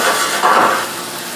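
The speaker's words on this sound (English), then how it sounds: "The sausage is starting to sizzle." A loud, steady sizzle of sausage frying in a pan, close and continuous, with a brief swell in the middle.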